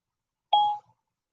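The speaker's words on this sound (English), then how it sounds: "that little beep sound you heard is a little feature on my iPad" A single short electronic beep from an iPad's dictation feature, clear and close, with a bright tonal chime that fades quickly into silence.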